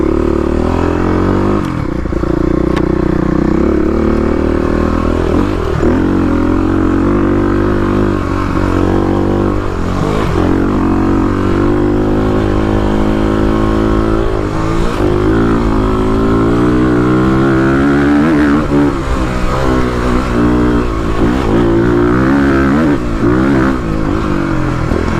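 A Kawasaki KLX351 dirt bike rated at 35 hp runs at full throttle up an off-road hill climb, its engine revving loud and close throughout with repeated rises and dips in pitch as it pulls and shifts.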